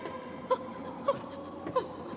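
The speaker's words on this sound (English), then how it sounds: "can you hear a kind of strange whimpering noise, like a trapped animal?" Strange, faint whimpering like a trapped animal, such as a gerbil: three short, thin whining squeaks spaced about half a second apart over a steady muffled background hum.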